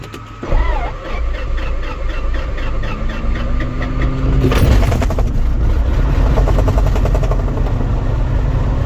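A Cirrus SR20 piston engine sputters, catches and roars up to a steady loud drone, running continuously with a rhythmic propeller thrum.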